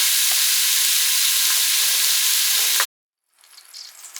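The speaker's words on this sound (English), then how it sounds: "This is beef, and I'm going to saute this until it gets brown and a little bit crispy" Smoked beef sausage sautés in an Instant Pot with a loud, steady sizzle and crackle that cuts off suddenly. Quieter frying sounds return a moment later.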